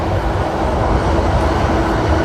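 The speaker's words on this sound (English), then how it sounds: "I like the trains, though." A train passes as a steady, loud rumbling roar of broadband noise with no breaks, close by and with no voices.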